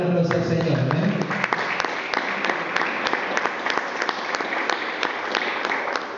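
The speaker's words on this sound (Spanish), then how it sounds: "¿Cuántos le dan la aplauso al Señor?" A church congregation claps steadily for several seconds, a dense wash of applause with a few sharper individual claps standing out, beginning under the tail of a voice at the start.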